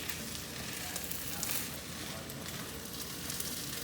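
Scrambled eggs frying for egg fried rice, a steady, close, broadband sizzle filling the pan throughout with slight fluctuations as the heat is turned down.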